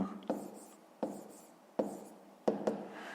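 A fifth-grade math solution is being written out by hand: four quiet, close scratching strokes come in a steady, regular rhythm, each starting sharply and trailing off.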